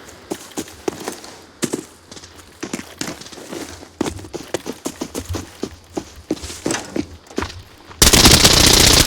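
Rapid bursts of automatic gunfire from the video game Arena Breakout Infinite, loud and close, with shots in uneven clusters and a harsh burst of noise near the end.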